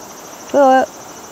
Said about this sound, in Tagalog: yung mga kuliglig, ayan, narinig nyo, kuliglig